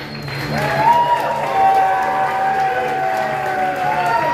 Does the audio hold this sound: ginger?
no